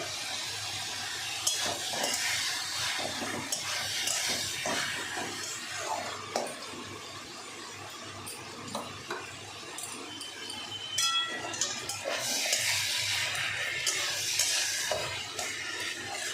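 Leafy greens cook in plenty of hot oil with a pinch of sugar in a home kitchen, giving a steady close sizzle broken by the scrape and clink of a stirring utensil against the pan.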